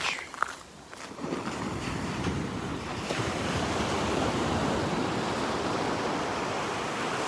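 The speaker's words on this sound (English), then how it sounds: "This is the beach." Surf rolling onto a beach on Marco Island, Florida: a broad, continuous wash of breaking waves that builds and stays steady, with wind buffeting the microphone and faint footsteps near the start.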